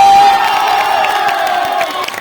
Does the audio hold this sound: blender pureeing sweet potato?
no